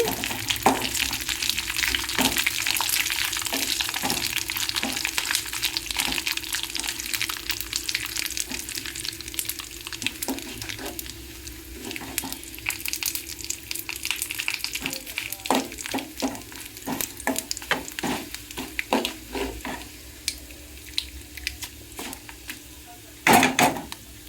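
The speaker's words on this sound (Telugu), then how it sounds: "తాలింపు దినుసులు కొంచెం వేగాలి." Tempering spices fry in oil for mango roti pachadi, hissing steadily up close with irregular spluttering pops and crackles that grow sparser and sharper toward the end.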